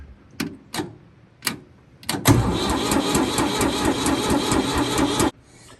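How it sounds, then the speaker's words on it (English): A diesel tractor engine cranks after a few sharp clicks, catches, and runs loud and steady for about three seconds before cutting off abruptly. "if you hold the key to the left, that turns on the glow plugs, and then turning it to the right should start it"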